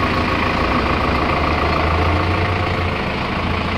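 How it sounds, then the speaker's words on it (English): A 2010 Hino 185 cargo truck with a 12-foot box and a four-cylinder turbo engine idles, a steady, loud, low diesel rumble that runs unbroken throughout. "Four-cylinder turbo engine."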